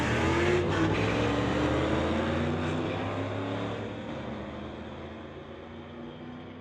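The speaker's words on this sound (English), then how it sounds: "Yeah, she spun her tire right off the line, but she had that traction." A 1985 Firebird and a 1983 Camaro launch off the line at a street-legal drag race, a loud, sustained engine roar that fades slowly as the cars pull away into the distance.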